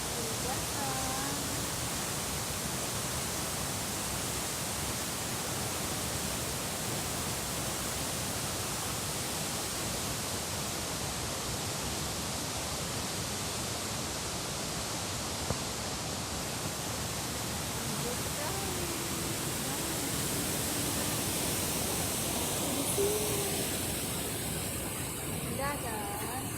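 Guyangan waterfall roars as a steady, dense wash of falling water, loud and unbroken throughout, with faint voices now and then beneath it.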